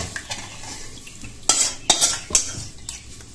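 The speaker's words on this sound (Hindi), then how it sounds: "इसको हम लोग अभी धीमी आंच में इसको चलाते चलाते पकाएंगे" Kadhi batter of yogurt and gram flour being stirred in a pot over low heat, with a spoon scraping and clinking against the metal in several sharp strokes over a soft background sizzle.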